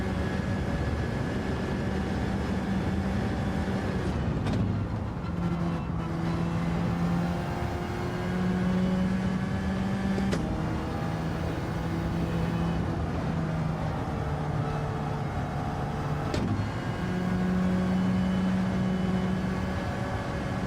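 A racing car in a video game revs its engine, the steady drone rising and falling in pitch, with gear shifts breaking it every few seconds over a long continuous stretch.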